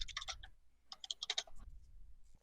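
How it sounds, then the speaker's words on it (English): Rapid keyboard typing in two short bursts of clicky keystrokes, close by, with a brief pause between them. "Why do I hear the click-clacks of the keyboard?"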